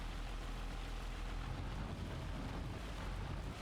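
Tractor engine in Farming Simulator 25, a tractor with variable tyre pressure, runs as a steady low rumble with broadband noise, constant and alone with no talk.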